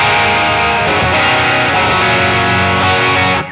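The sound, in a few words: electric guitar overdrive through HX Effects, Minotaur pedal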